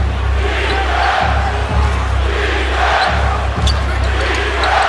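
Steady roar of a basketball arena crowd during a Celtics at Knicks NBA game, loud and continuous with sneaker squeaks and ball thumps rising through it.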